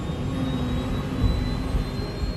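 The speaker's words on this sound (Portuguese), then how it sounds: "A decolagem parece ótima." Jet airliner engines roar during the takeoff roll, a steady loud broadband rumble with a thin high whine running through it, continuous for the whole stretch with no talk over it.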